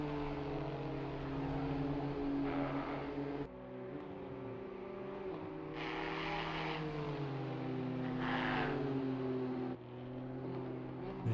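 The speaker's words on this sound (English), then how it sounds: "As these BMWs so quiet, you can hear the tyre roar over the engines." BMW M2 race cars in the Pitskill racing video game, with steady tyre roar and engine drone running continuously and loud, shifting pitch as the cars brake and accelerate through corners.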